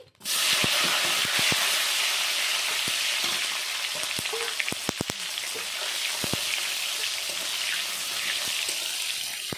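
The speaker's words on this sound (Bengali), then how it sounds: "টমেটো ভেজে নিয়েছি" Chopped tomato with whole cumin seeds frying in hot oil gives a steady, close sizzling hiss, broken by scattered sharp pops and spoon taps against the pan.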